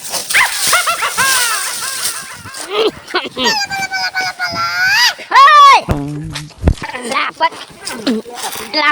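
A dog barks and yips in a street amid loud, agitated human voices, sharp short barks scattered between the talk, near and loud.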